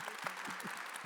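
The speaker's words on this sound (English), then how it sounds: "a round of applause." A room full of listeners at a women-in-lighting talk session in Paris gives a quiet, steady round of applause, soft distant clapping with no voices over it.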